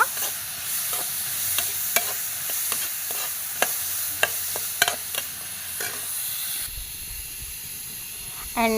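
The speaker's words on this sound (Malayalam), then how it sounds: "ക്യാരറ്റ് മത്തൻ ഇട്ട് കൊടുക്കാം. നന്നായിട്ടൊന്ന് നെയ്യിൽ വഴറ്റിയെടുക്കണം." Diced carrot and pumpkin sautéing in ghee in a pan, a continuous bright sizzle broken by repeated spoon scrapes and taps as the vegetables are stirred.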